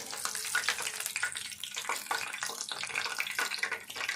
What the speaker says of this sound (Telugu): ఈ మిర్చి అయితే మంచిగా లోపల వేగాలి.